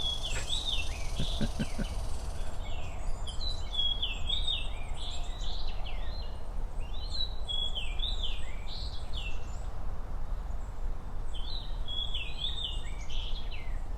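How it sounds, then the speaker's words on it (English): A fox sparrow sings repeated rich, whistled phrases, clear and fairly close, over a steady hiss of background noise, with insects or crickets faintly present. "I don't get to hear fox sparrow very much because they don't stick around to breed here."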